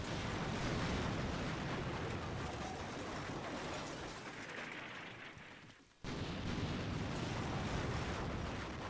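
Heavy artillery fire and explosions in Combat Mission: Shock Force 2 fill the scene with a dense, continuous rumble of blasts and gunfire, dipping briefly before resuming just as loud, with no talking.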